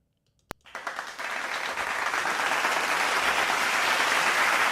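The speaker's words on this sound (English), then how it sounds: "Can I please give my brother Mike a round of applause?" A group applauds a brother after he answers correctly on a talk show, the clapping starting abruptly with one sharp clap and swelling into steady, dense applause that holds to the end, with no talk over it.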